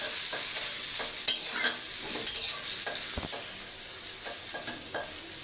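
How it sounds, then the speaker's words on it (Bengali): Chopped onions and green chillies fry and sizzle in oil in a pan for a fish-head muri ghonto, with steady crackling and scraping stirring strokes and no talking. "দেখুন পেঁয়াজটা ভাজা ভাজা হচ্ছে"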